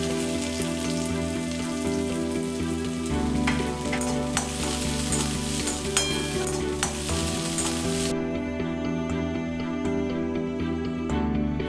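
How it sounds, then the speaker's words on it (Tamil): Garlic roasts in oil for paruppu podi, crackling and sizzling steadily with dense popping and occasional stirring scrapes, close and continuous throughout. "பூண்டுக்கு மட்டும் கொஞ்சம் எண்ணெய் ஊற்றி பூண்டை வறுத்துக்கலாம்."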